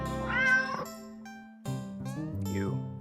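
Cat meowing in a video game, several drawn-out, close meows with brief pauses between them, heard clearly and loudly without other voices.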